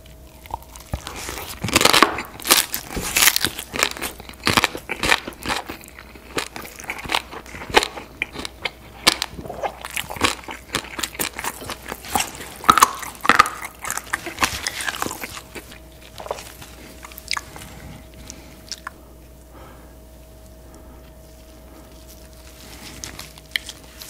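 Crisp fried whole pork belly eaten with kimchi, close and dense: repeated crunchy bites and wet chewing with crackling. The sound thins toward the end, over a low steady hum.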